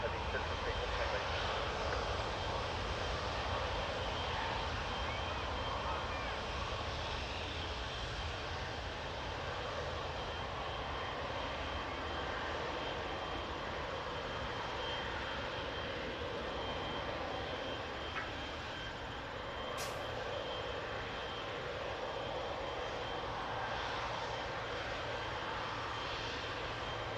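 Delta heavy jet airliner taking off at Toronto Pearson airport, a loud, sustained roar of engines holding steady for nearly half a minute, with air traffic control radio chatter over it.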